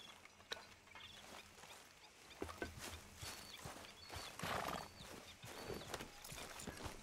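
Faint clip-clop of horse hooves at an easy walking pace in Red Dead Redemption 2, a soft uneven rhythm with light background ambience and no talking.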